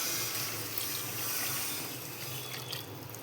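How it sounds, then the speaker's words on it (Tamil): Dissolved tamarind gravy for a bean and yam kuzhambu pours steadily into a boiling pot, a continuous close splashing, trickling rush of liquid with no voices. "இப்போ பச்சை நாத்தம் கொதிச்சு இப்போ கரைச்சி வச்ச குழம்பு ஊற்றணும்."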